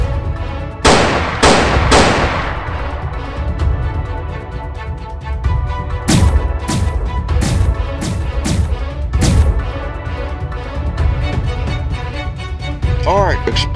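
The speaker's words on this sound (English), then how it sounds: "Engineers, you guys lay down some explosives and blow up the tank barriers." Several sharp, loud blasts from explosives destroying tank barriers in a World War battle game, a quick pair near the start and a rapid cluster midway, set against a constant din of combat noise and voices.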